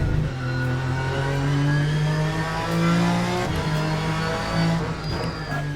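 Race car engine in the racing simulator Le Mans Ultimate, a sustained loud drone with shifting pitch as revs rise and fall, steady and continuous with no talk over it.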